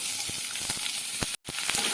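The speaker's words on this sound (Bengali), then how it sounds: "একটা মিডিয়াম সাইজের পেঁয়াজ নিয়ে নিয়েছি সেই পেঁয়াজটা দিয়ে দিচ্ছি" A medium onion fries in hot mustard oil with five-spice, a dense close sizzle crackling with tiny pops and broken by a short silent gap.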